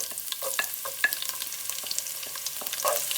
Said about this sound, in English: Now oil is hot, so I'm going to put the cumin seed first, then garlic.